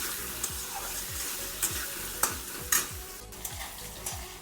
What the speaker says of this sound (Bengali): সামান্য একটু হলুদ দিয়ে আলু কটাটা আমি ভালো করে ভেজে নেব।